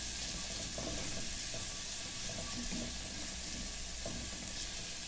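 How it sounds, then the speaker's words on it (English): Ingredients for BBQ sauce sautéing in a pan, a dense continuous sizzle and crackle with occasional stirring scrapes, close and steady with no talking. "Saute real good without burning it."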